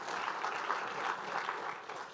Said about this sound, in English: Yeah, you can clap about that too